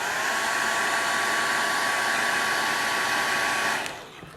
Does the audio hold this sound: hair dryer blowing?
yes